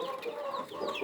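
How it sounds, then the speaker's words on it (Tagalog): Backyard chickens, a Rhode Island rooster with native hens, give soft overlapping clucks and chirps at close range in a brief burst. "ang rooster natin ay Rhode Island, ang hens natin ay native."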